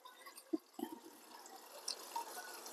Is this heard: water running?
yes